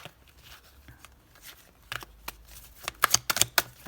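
Tarot cards being drawn and handled, with soft papery rustles building into a quick burst of crisp shuffling snaps close by near the end.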